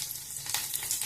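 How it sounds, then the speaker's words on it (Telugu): Garlic cloves frying in hot oil give a steady close sizzle with soft crackling bursts and no voices. "ఆయిల్ వేడైంది. వెల్లుల్లిపాయలు వేద్దాం."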